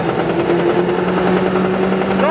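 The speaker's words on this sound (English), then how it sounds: "Helicopter! Helicopter!" A helicopter flies overhead, heard from inside a moving car as a steady low throbbing drone with a sustained hum, fairly loud and continuous for a couple of seconds.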